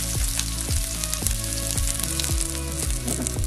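Onion and chili frying in hot oil, a loud steady sizzle with repeated sharp spatula scrapes and knocks against the pan roughly every half second, close up with no voices.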